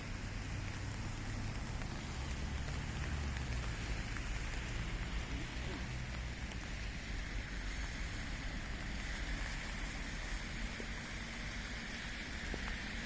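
Steady rain patters continuously on a surface, a dense even hiss with no pauses from start to finish.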